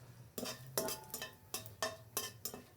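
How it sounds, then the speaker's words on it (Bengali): Whole spices and a bay leaf are stirred in oil in a pan, a spatula scraping and clanking against the metal in regular strokes about every half second over a faint sizzle. "তেল দিয়ে দিলাম আস্ত মশলা তারপর দিয়ে দিলাম তেজপাতা এখন একটু নেড়ে"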